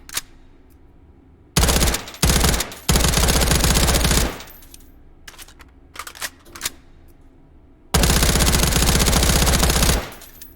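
Bursts of 5.56 rifle gunfire from a modded video game, loud rapid automatic strings of shots broken by short pauses and a few single shots, the last long burst lasting about two seconds, with no talking.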